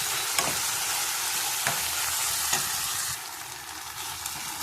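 Tomatoes and fennel seeds for a chicken curry frying in a pan, a continuous close hiss with a few sharp stirring clicks, softening slightly near the end, with no voices.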